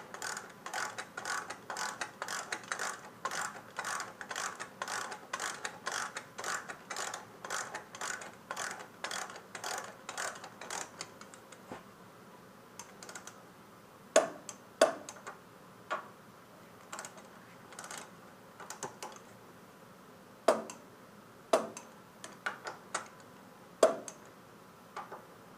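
Ratcheting torque wrench tightening brake caliper bolts on a 2014 Honda VFR800, a fast run of crisp clicks at first, then sparse, sharper single clicks and pauses, close and alone without talk.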